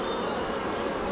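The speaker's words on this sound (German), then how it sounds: "Trotz der Masse an Bienen, die drin ist, um die Uhrzeit relativ friedlich." Honeybees swarm around an open Dadant hive during an inspection, making a dense, steady hum of many wings close by, unbroken and fairly loud, with no talking.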